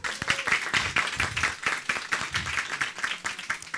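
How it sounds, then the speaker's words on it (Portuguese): Audience applause at a commemorative event, close and loud clapping from a modest crowd with individual hand claps standing out in an irregular rhythm. "Aplausos."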